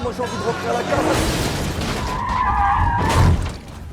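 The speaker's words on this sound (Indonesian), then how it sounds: "tiba-tiba sebuah mobil menabrak mereka" Tires screech in a long skid as a car hits another car in a film scene, with glass shattering and a crash impact, all heard under speech.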